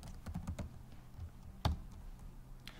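Keys tapped on a computer keyboard while entering web page code, a quick run of clicks, then a pause, one sharper isolated keystroke and a final tap, close and moderately loud with no talking.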